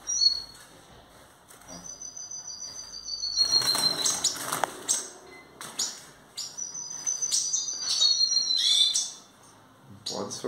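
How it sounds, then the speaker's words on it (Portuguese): Hooded siskins in a cage give repeated bright, thin chirps and twittering song phrases with fluttering wing flaps, fairly close and moderately loud, with no talk. "A fêmea de tarim."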